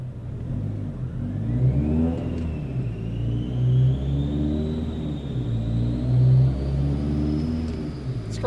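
A car with a Woolman 2.5L engine and G30-770 turbo revs repeatedly, its loud exhaust rumbling and rising and falling in pitch close by, with a turbo whine climbing above the engine note.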